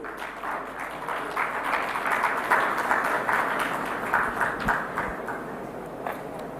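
Sustained crowd applause fills a hall at a large maritime exhibition in Mumbai, steady and dense for several seconds with a faint low hum underneath.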